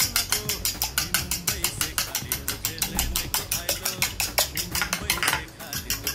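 A flour, pepper and salt coating for squid is mixed in a bowl with a utensil, producing fast, regular scraping clinks of metal against the dish, close and steady throughout.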